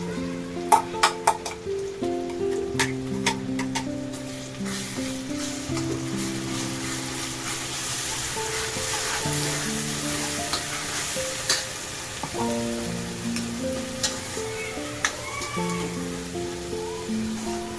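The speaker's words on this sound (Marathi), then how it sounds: "हा मसाला पण आपण छान भाजून घेऊया" Onion and tomato paste masala fries and is stirred in a pan, a steady close sizzle with scraping strokes and a few sharp utensil clinks near the start.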